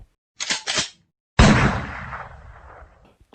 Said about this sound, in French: tire sur le marcheur en face de lui avec son fusil à pompe